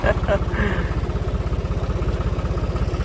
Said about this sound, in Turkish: Traktör gidiyor.